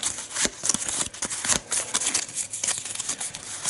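Playing cards for the Eldritch Horror board game being shuffled, a steady run of crisp riffling and flicking bursts, close and fairly loud, with no talking.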